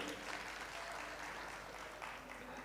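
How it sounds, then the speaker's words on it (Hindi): Soft, distant applause from an audience at an Arts Council of Pakistan tribute event in Karachi, an even wash of clapping under a low hum with no speech. "अरे यार बहुत सारी तालियां किश्वर भाई के लिए"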